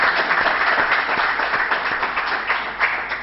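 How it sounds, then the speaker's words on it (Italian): A studio audience on an Italian talk show applauds a guest, a judge: steady, dense clapping from many hands, fairly close and even in loudness throughout. "facciamo un applauso a Raffaele Piccirillo"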